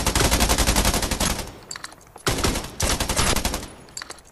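Loud, rapid automatic gunfire from the Scarfall 2.0 battle game, dense bursts that break off and resume, with no talk over it.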